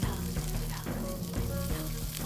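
Turkey burger sliders sizzling steadily in a hot pan, a continuous close frying crackle with small pops throughout, no voices.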